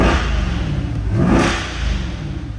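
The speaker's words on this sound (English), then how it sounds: "I'll turn on the headlights and let's give it a couple revs." Engine revving on a 2020 Corvette 2LT coupe with the Z51 package, a close, loud rumble that swells in a quick rev near the middle and then settles.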